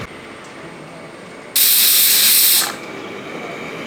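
A pressure cooker of vegetable soup on the stove lets out a single loud, steady hiss of escaping steam lasting about a second, rising sharply out of a quiet kitchen background and then cutting off.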